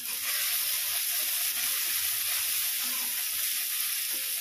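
Tomatoes and half a teaspoon of salt tossed into a hot pan while cooking vegetable pulao, giving a loud, steady, close sizzle and hiss throughout with no talking.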